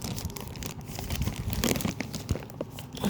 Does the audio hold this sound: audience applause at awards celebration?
no